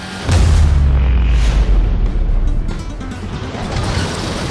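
Car slamming into a wall during a chase in the Fast & Furious Crossroads video game, a heavy close boom of impact followed by a sustained rumbling engine roar that gradually eases.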